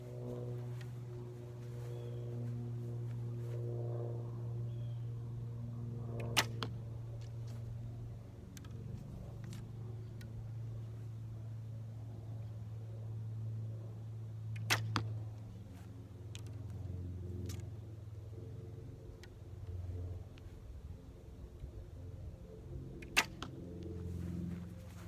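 Three soft, sharp twangs of a Bodnik Slick Stick recurve bow firing arrows, spaced several seconds apart, over a steady low drone of an airplane overhead.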